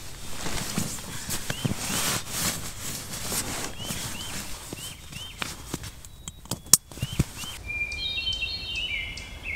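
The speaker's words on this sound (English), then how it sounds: "That's the Swainson's thrush. Isn't it beautiful?" A Swainson's thrush sings in the northwoods, its repeated upward-spiraling phrases faint and distant at first, then clearer near the end over soft rustling and a few footstep-like thumps.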